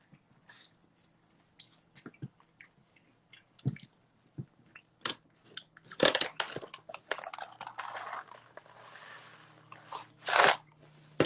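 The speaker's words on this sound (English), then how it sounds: "Sorry, I'm chewing." A person chews food close to the microphone, with irregular crunches and wet squishy bites spread unevenly, some louder bursts, and a brief spell of soft speech.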